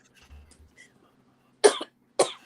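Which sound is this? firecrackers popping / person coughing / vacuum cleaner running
person coughing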